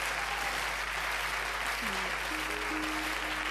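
Steady, dense audience applause at a live Kyrgyz music performance, loud and continuous throughout, with faint voices underneath.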